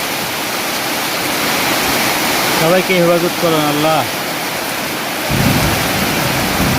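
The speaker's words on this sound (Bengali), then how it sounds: "এত বৃষ্টি এত ঝড়" Heavy rain pours down during a thunderstorm, making a loud, steady broadband roar that lasts throughout, while a voice briefly prays over it.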